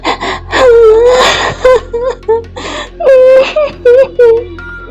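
A woman cries in the night, a long wavering wail breaking into gasping moans and whimpering sobs in repeated bursts, close and loud.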